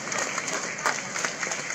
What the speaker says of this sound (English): Give a big round of applause, ladies and gentlemen, for the one man who made it possible today